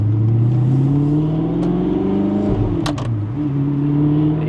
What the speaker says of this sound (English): You hear the clacks between shifts?